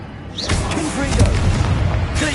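A Confrigo blast spell from a wizard video game bursts out as a dense, loud whooshing boom that swells over about two seconds, with short tonal game sounds mixed in and a brief bright chirp at the start and end.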